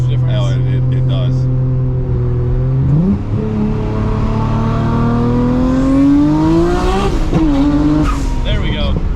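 A Nissan R34 GTR engine revs hard and close, its tone climbing and dropping sharply through flat foot shifts with ignition cut, loud and continuous with a brief stutter at each shift; people talk over it.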